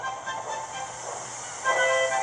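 Steam engine Thomas puffing along the line, a steady hissing chuff with rail rumble, growing louder and closer near the end with a brief whistle-like tone.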